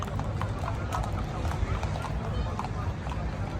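Rhythmic horse hoof clip-clops over a steady low rumble, with people talking underneath throughout, in Baguio City, Philippines.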